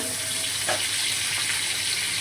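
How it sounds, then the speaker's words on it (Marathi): Tomato, onion, garlic masala with turmeric and cumin powder sautéing in oil, a continuous close hiss and sizzle with a couple of soft stirring scrapes, no voices. "तेल सुटेपर्यंत परतून द्यायचं."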